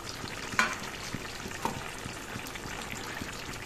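Fish and ridge gourd cook together in a pan at home for a fish curry, giving a soft steady frying sizzle with faint bubbling water and a few small clinks, close and alone.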